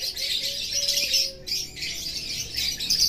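A lovebird chirps and squawks in short bright bursts at close range, with a brief pause midway, against a low background hum.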